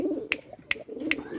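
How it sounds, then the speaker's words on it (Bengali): Pigeons coo in three short, evenly spaced calls against a low background murmur of more birds, close by with no talk. "দেখুন কি পরিমাণ অ্যাক্টিভ পায়রা রয়েছে এগুলো।"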